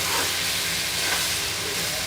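Okra (bhindi) sabji frying in a pan, a steady continuous sizzle with soft stirring scrapes throughout, close and fairly loud, with no talking.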